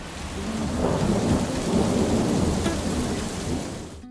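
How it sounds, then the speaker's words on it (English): Heavy rain hammers a caravan awning at a leisure park while thunder rumbles through it, a loud, dense drumming with a deep low roll under the downpour and no voices. "so the rain did come, and unfortunately it hasn't opened and we didn't get the awning down in time"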